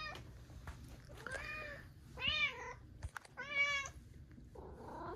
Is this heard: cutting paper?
no